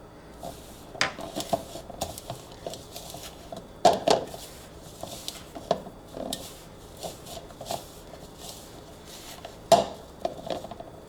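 Hands work keto butter cookie dough made with very soft butter in a bowl, giving soft squishing and patting with scattered light knocks against the bowl, irregular and close.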